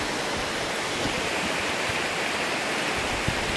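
A river flows steadily at Aghadowey, a constant broadband rushing with no breaks, fairly close and alone without talk.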